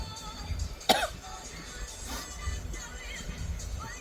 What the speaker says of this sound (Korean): 자꾸 기침을 많이 할 거예요